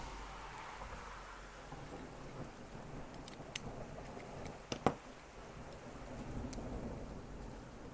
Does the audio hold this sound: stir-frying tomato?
no